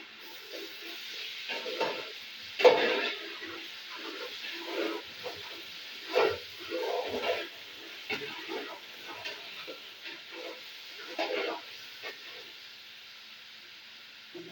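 Blended garlic and ginger sizzle in a large pot of oil for jollof rice, a steady soft hiss with scattered crackles and a few stirring scrapes, fairly quiet and close.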